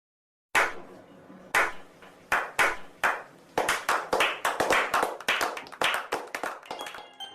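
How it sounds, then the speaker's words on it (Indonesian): Hand clapping, starting after a moment of silence as a few spaced, sharp claps, then quickening into a steady run of close, crisp claps from a small group, with no talk over it. "Tepuk tangan dong bro."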